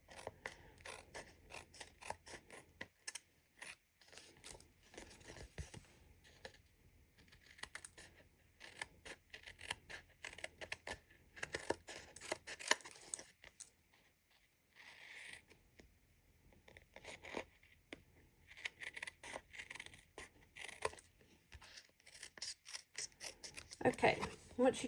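Scissors trim excess paper from a handmade card with quiet, close, irregular snips and rustles under faint background sound.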